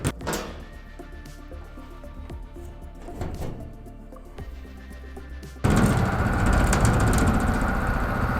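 Sheet aluminum coachwork panel worked in a metal shrinker, sharp hard clacks and knocks at first, then a sudden loud, steady broadband roar of machinery for the last few seconds, close and no talk.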